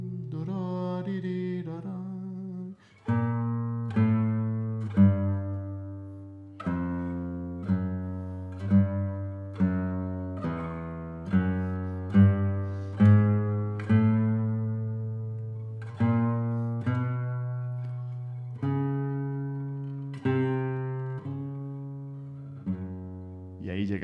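Bass line from Agustín Barrios' La Catedral, second movement, played alone on classical guitar: a steady, close walk of single plucked low notes with chromatic steps, each one ringing and fading before the next, no voices.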